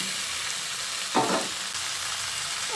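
Fried jackfruit is tipped into a pan of spice mixture. A loud, steady sizzle swells briefly as the pieces land and then settles back to an even hiss.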